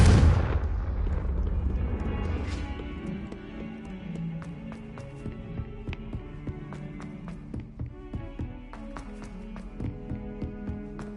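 A Confringo blasting-curse explosion in a Hogwarts video game: a loud broadband burst up front that decays into a long ringing tail, followed by scattered sharp crackles and pops of debris.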